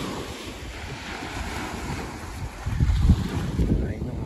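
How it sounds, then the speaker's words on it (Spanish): Gentle surf on a Florida beach, a steady wash of small waves with wind buffeting the microphone and a slightly louder surge of water near the end. "Me encanta el sonido de las olas, aunque no son fuertes, pero el sonido del agua,"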